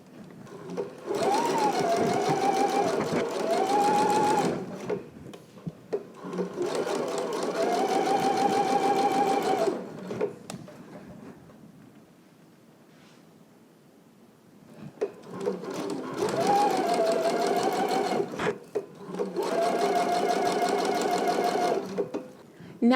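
A sewing machine stitching a baby hem close to a fold in fabric, its motor whirring in steady runs of several seconds that stop and restart, with quiet pauses between runs.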